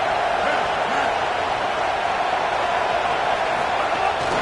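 Video-game football stadium crowd of Ohio State Buckeye fans roaring on third down, a steady, dense wash of cheering noise that stays constant throughout.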